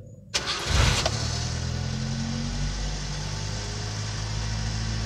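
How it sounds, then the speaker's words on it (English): A Subaru engine cold starts with a sharp cranking burst and catches almost at once, then settles into a steady, loud, close idle that continues without talk. "Cold start for the Subaru."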